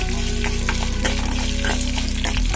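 Ginger and garlic fry in oil over a medium flame with a dense, steady sizzle and crackle under a low constant hum, no voices.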